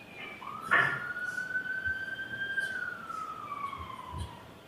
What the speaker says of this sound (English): I just wanted the siren to go by